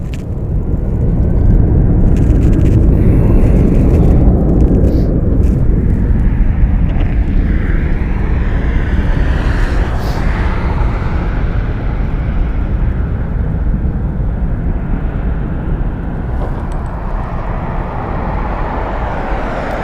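A jet takes off from runway 1 right at Las Vegas Harry Reid International Airport, its loud, broad engine roar sustained throughout and slowly shifting as the aircraft climbs away.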